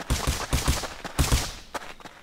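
Rapid gunfire from a PvP battle in the survival game Rust, several sharp shots in quick bursts followed by a few scattered single shots, loud and close.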